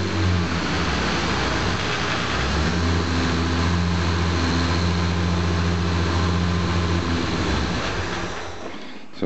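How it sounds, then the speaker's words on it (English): A Jaguar E-type on an independent rear suspension test rig, its electric cooling fan whirring steadily with the ignition switched on, a constant loud drone with low hum bands running unbroken to the end. "key on, can you hear the fan running?"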